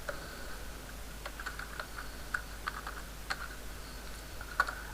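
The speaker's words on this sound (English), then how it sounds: "here I'll type stop" Quick, light keystrokes on a computer keyboard, tapped one by one in an uneven rhythm over a faint steady background hiss, nearby and fairly quiet.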